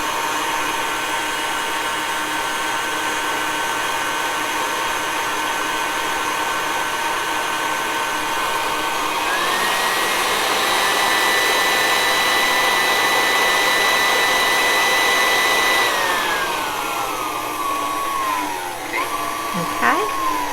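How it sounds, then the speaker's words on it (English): An electric mixer creams oil and sugar for carrot cake batter, a loud continuous motor whine that holds steady, then shifts pitch and winds down near the end, with no voices over it. "Just mix it for a few seconds, making sure that the oil and the sugar is creamed really well."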